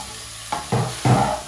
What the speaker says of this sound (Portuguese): Continuar mexendo até ela ficar douradinha.